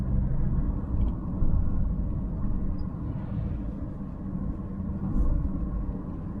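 Steady low rumble of a Toyota RAV4 being driven, with the engine and road drone filling the cabin at an even level throughout, no voices.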